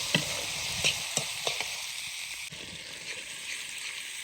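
Food fries in oil in a pan while being stirred, a steady, faint sizzle with several soft scraping knocks of the utensil scattered through the first half.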